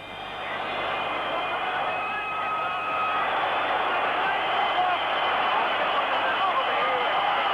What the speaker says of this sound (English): The crowd's going quite frantic